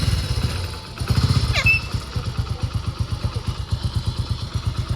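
An old motorcycle engine idles close by with a steady, even pulse of low putters, briefly louder and rougher at the start before settling into a regular chug.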